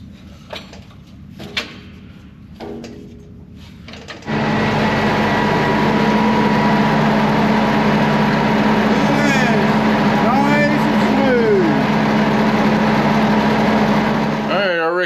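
A combine harvester with a cleaning fan fault starts after a few seconds of clunks and handling noise, then roars into a loud, steady, close run with a high whine layered over the engine drone.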